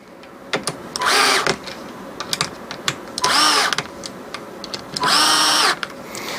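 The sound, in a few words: power tool tightening bolts on sprinkler metal heater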